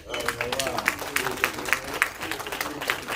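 A church congregation applauding during a Sunday worship service, a rhythmic wash of many hands clapping with regular accented beats, mixed with crowd murmur and voices.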